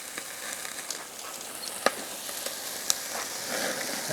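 A T-bone steak sizzles steadily over hot coals on a Weber grill, a close, even hiss with scattered pops and a couple of sharp crackles, with no voices.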